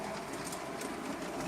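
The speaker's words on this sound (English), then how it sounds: "the train's been running for a good 10 minutes already" A model train runs steadily on a home layout track, giving a continuous close rolling rumble with faint rhythmic clicks and no talk.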